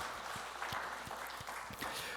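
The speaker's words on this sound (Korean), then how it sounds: "우리 박수하겠습니다" A church congregation claps in a faint, even rhythm, with sharp hand claps repeating at a steady pace for a couple of seconds.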